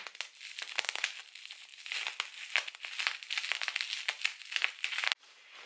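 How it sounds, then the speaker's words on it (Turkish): Thin plastic crinkles and rustles close up in rapid irregular bursts as a small bag is handled and pulled open, then the crackling abruptly stops. "Şimdi böyle küçük bir poşet açıyorum."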